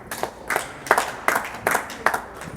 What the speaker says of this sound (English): A round of applause from the auditorium for that.